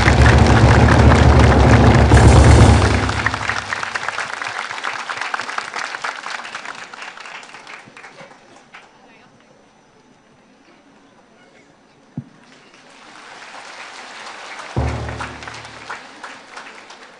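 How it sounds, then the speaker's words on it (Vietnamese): A cathedral congregation bursts into loud applause at the installation of a Catholic bishop for the Thanh Hóa diocese, then the clapping fades into a quiet hall before a single thump and a second swell of clapping. "Xin cộng đoàn vỗ tay."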